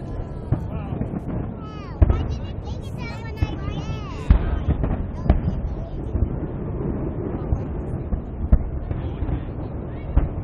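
New Year's Eve fireworks in Sydney crackle and thump in a dense, continuous barrage, with sharp bangs popping out every second or two and a faint whistle early on.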